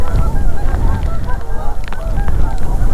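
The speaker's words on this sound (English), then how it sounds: "the geese are laughing at me" A flock of geese honks loudly and continuously, many overlapping nasal calls close by outdoors in the rain beside a river, with a dense background rumble.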